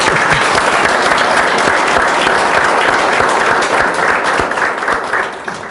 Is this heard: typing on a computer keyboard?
no